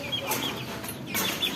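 Pet chickens cluck in short, close bursts, with a couple of louder calls standing out over a steady farmyard background; no one speaks.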